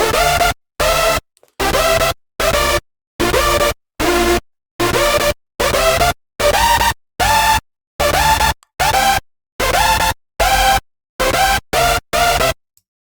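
A hardstyle synth melody with chords and a bass line plays loud in sharply chopped stabs, each burst separated by silence in a steady rhythmic pattern, with no voices.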